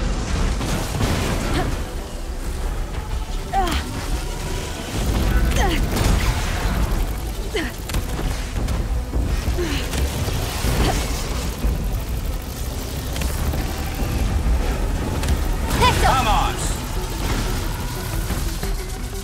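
Explosions and booming bursts from the PS5 game Horizon Forbidden West rumble in repeated heavy waves under continuous game sound, with a voice speaking over parts of the action.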